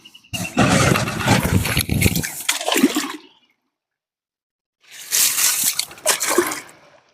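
Water gushes and splashes loudly in two long pours separated by a brief silence.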